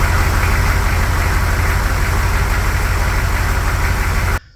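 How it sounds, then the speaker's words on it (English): An M1009 K5 Blazer truck's engine idles steadily after an electric fuel pump conversion, a loud, even low rumble that holds unbroken until it cuts off abruptly near the end. "we just fired the truck up"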